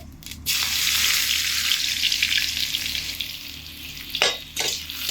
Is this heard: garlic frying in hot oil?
yes